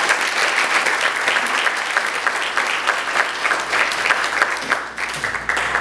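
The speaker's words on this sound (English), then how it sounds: "another round of applause" A dinner crowd at a Freedom Fund banquet gives sustained, dense applause, loud and steady throughout, with no talking over it.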